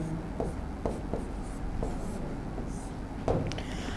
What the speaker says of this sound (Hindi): अब सबसे पहले हम लिखेंगे दोस्तों अंजलि को।